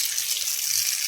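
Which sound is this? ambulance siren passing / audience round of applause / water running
water running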